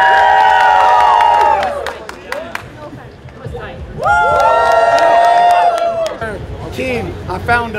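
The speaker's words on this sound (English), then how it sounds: "when I raise the person's hand who you think won, you cheer" A crowd cheers and whoops loudly for a chosen fight winner at a Toronto gathering, the shouting swelling in two strong bursts with scattered applause and chatter.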